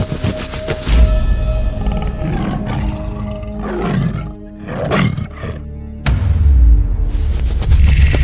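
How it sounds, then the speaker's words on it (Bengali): A white tiger in a Bengali tale gives loud, close roars in several powerful bursts with brief dips between them. "এটা তো সাদা বাঘ রে। এর সামনে পড়লে আমাদের একজনকেও রক্ষা করবে না।"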